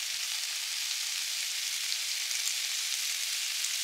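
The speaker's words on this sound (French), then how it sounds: "Je vais rajouter un peu d'huile pour mettre ma viande hachée à cuire." Hot oil sizzles steadily in a pan ready for cooking a kilo of minced meat for bolognese sauce, a dense, even crackle with no talk.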